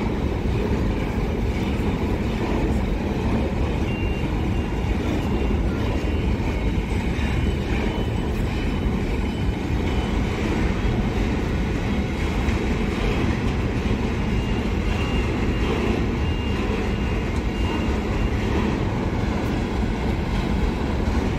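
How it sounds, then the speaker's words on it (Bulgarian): A long freight train rolls through the central station at Karlovo, Bulgaria, a dense, continuous rumble and rattle of wagons that stays loud and unbroken throughout. "по принцип товарните влакове са дълги, така че не се и очудвам."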